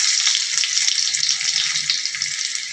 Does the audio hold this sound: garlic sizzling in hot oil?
yes